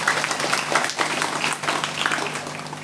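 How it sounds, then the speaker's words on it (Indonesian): An audience at a Teachers' Day event gives brief applause, a dense wash of many hands clapping at moderate distance. "berikan aplaus untuk beliau"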